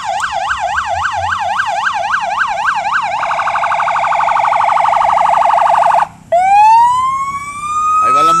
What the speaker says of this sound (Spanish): Ahí va la ambulancia.